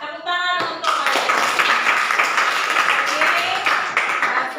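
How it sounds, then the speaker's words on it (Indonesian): Students in a vocational school classroom break into steady, dense clapping that carries on loudly after a short spoken phrase at the start. "Ya, tepuk tangan untuk kalian."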